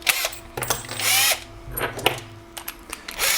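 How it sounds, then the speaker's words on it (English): Power drill boring a hole through a 3D printer enclosure panel, with several loud whirring bursts separated by brief pauses, heard up close with no talking. "and then drill the last hole"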